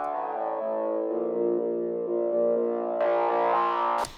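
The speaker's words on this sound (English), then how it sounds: "So distortion, this guy is a diode, so it's very heavy distortion." Synth line run through a heavy diode distortion with a flanger effect, sustained and buzzing with stepping pitches, brightening sharply near the end before cutting off abruptly.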